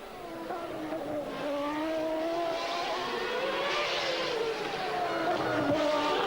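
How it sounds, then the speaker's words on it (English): A 1994 Formula 1 car on a qualifying lap at the Australian Grand Prix, its high-pitched engine howling steadily and climbing through the gears, loud and close, with a faint commentator voice underneath. "And Mansell is on another lap."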